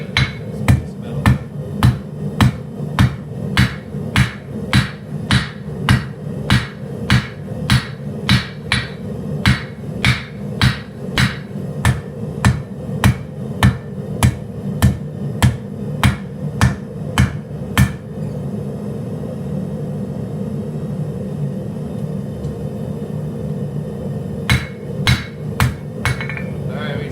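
A hammer draws out the blade of a hand-forged 52100 steel kitchen knife on a cold anvil. Loud, ringing strikes fall in a fast, steady rhythm, then stop for a few seconds before a short final burst of blows.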